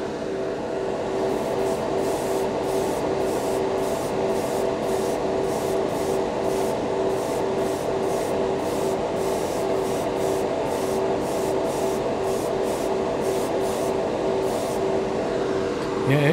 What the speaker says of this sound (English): So just spraying a couple of spoons.